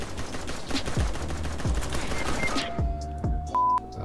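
Rapid bursts of gunfire in a Roblox shooter game as a whole magazine is emptied, sharp repeated cracks for over two seconds, then a sudden drop to near quiet with a few thin electronic beeps.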